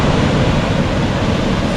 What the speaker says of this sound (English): So this is the Fifi waterfall.